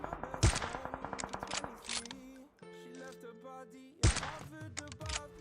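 Gunfire in the mobile battle royale game PUBG Mobile, two loud sharp shots about four seconds apart, each followed by rapid clicking and metallic in-game reload and action sounds over electronic game tones.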